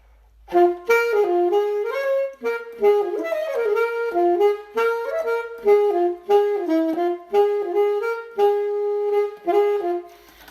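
A solo horn, close and bright, plays a flowing blues phrase of quick bending notes, pausing briefly between licks before settling on a final sustained note on the fifth.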